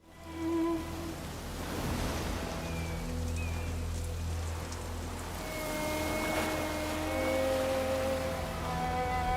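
Rainy-season rain falls as a steady broadband hiss, moderately loud and unbroken. Low droning tones and faint tonal sounds run beneath it throughout.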